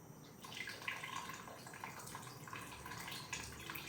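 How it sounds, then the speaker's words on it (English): Water runs from an opened tap in a quiet, steady stream, faint and close, with light splashing and no voices. "Now we can open the tap."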